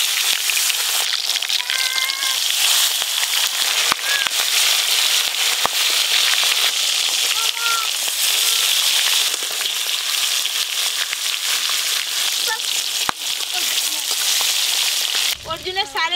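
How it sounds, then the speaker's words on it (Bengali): Small sarpunti fish fry in hot mustard oil in a pan, a loud continuous close sizzle with crackling pops and faint voices in the background. "গরম তেলে এই মাছগুলো দিয়ে দেবো।"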